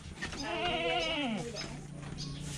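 A goat bleats in a long wavering cry, close and fairly loud, over rural background noise, with people chatting nearby.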